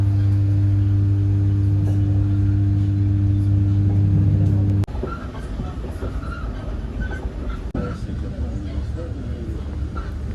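A train heads to central Paris, giving a steady loud rumble. A low tonal hum holds for the first half, then cuts out with a sharp click, leaving broadband rolling noise and faint rattles, with no clear talking.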